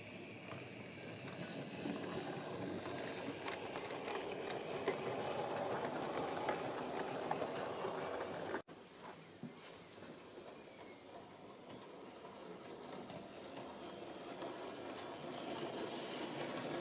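Model LNER locomotive, bought for about £25, running steadily along its track with a continuous rolling rumble and light rhythmic clicking, briefly cut off partway then resuming, close and moderately loud with no talk.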